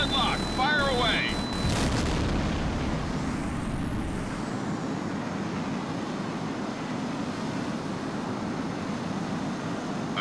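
A missile launches from a jet in the H.A.W.X combat flight game, a sudden launch that swells into a sustained roaring rush of jet engine noise, continuous and loud after a brief radio voice at the start.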